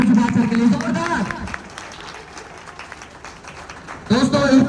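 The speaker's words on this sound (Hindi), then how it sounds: "एक बार जोरदार तालियां डॉक्टर सुभाष सर के लिए" Loud applause from a seminar audience for Dr. Subhash, starting after a brief stretch of speech and swelling strongly near the end, with a dense mass of many hands clapping in a crowded hall.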